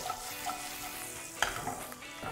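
Curry leaves crackle in a hot pan for onion tomato chutney, a close, busy sizzle broken by a few sharp pops and stirring scrapes over a couple of seconds, with no voices.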